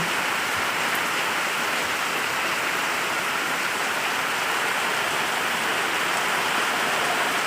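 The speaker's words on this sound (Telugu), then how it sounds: "చూడండి ఎంత గట్టిగా కురుస్తుంది వర్షం" Heavy rain pours steadily and loudly at night, a dense continuous hiss with no other sounds.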